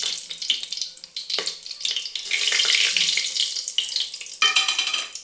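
Cinnamon, cardamom and cloves drop into hot mustard oil in a pan, giving uneven bursts of sizzling and spattering hiss mixed with clinks and scrapes, rising to a fuller crackle midway.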